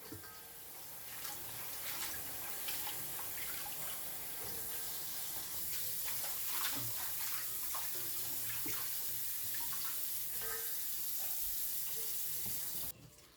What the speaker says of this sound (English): Just gently wash the green beans.